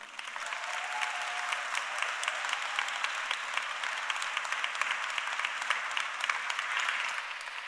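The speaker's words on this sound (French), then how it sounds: "Un tonnerre d'applaudissements pour Moula Causé" Concert hall audience at a slam poetry event gives sustained, even applause, a dense rush of many hands clapping at moderate distance with no voices on top.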